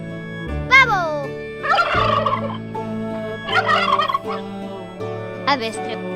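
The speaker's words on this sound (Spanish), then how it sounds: "Pavo." A domestic turkey gobbles loudly and close, letting out several rattling bursts separated by short pauses, alone without any talk.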